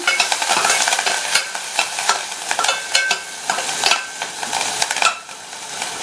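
Curry leaves sautéed in a pan with a spatula stirring briskly, giving a loud, close, continuous sizzle with repeated scraping strokes.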